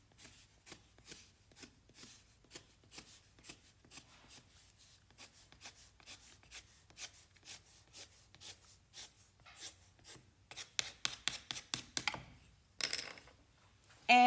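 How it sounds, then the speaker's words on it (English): A pencil rubs back and forth across an MDF board, marking off waste material in quick, repeated scratchy strokes up close, with a few louder taps and scrapes near the end. "I'm going to mark the waste material"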